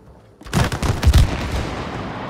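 Gunfire in the co-op video game It Takes Two, a short burst of several sharp booming shots in quick succession.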